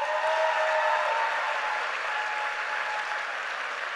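Applause for a convention organizing team at an ICNA gathering, a steady even wash of clapping from a large crowd, moderately distant and sustained, with no voices standing out.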